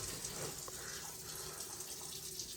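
Water is poured into a pot of bean soup cooking in a kitchen, a faint, continuous trickling splash lasting a couple of seconds at low volume, without speech.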